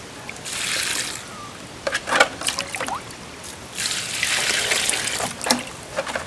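Water sloshing and trickling as leaves are soaked in a water mixture for fermenting, in two broad bursts with small splashes between, fairly close and moderately loud, with no talking.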